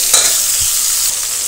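Karfu fish pieces hit hot oil and sizzle loudly at close range, a bright crackling burst with a soft thump as the fish goes in, the frying hiss continuing to the end.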